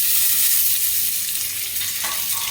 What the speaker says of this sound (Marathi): आतां हांव कट केल्ले टोमॅटो घालून सोडटा.